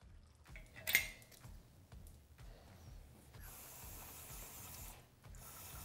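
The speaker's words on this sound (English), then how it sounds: "what we're gonna do is just pull this drain plug out" Drain plug being unscrewed from a Polaris RZR 900 engine during a rebuild, heard as a sharp metallic ratcheting clatter near the start, followed by faint tool and metal handling sounds with low hiss, no talking.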